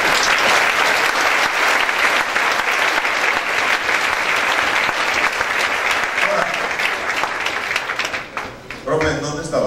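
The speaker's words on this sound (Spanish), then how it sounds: "Un aplauso para el Rey" A church congregation breaks into loud, dense applause that runs steadily for several seconds, then thins out and fades as a voice begins speaking near the end.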